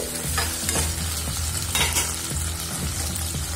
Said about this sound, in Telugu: ఎర్రగడ్డలు కొద్దిగా కలర్ మారిన తర్వాత అందులో 2 పచ్చిమిరపకాయలు సన్నగా తరుక్కున్నవి, ఒక 2 రెమ్మల కరివేపాకు వేసి ఒకసారి మిక్స్ చేసి